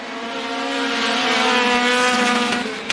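Race cars roar around the Bakersfield Speedway oval during a close battle for the lead, a loud, sustained engine drone with rising and falling pitch that swells toward the middle and ends with a sharp click.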